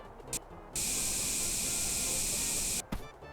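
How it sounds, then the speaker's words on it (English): Steady spray paint hiss in a VR Teardown voxel game, a continuous loud burst of about two seconds between short quieter moments, no talking. "Oh, this is spray paint."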